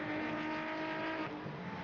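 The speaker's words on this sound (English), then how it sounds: "Glorious noise that the V6 Vento and Golf engines make." VW cup race cars, V6-powered Ventos and Golfs, roar past on a circuit near a hairpin, a loud, sustained engine howl with steady pitch and slight variation.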